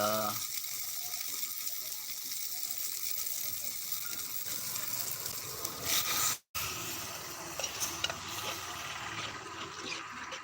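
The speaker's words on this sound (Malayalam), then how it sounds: "കുറച്ച് വെള്ളം ഒഴിച്ചു കൊടുത്തിട്ടുണ്ട് കേട്ടോ" Continuous gushing hiss of water pouring into a cooking pot for egg curry, steady and moderately loud, briefly cut off partway before resuming.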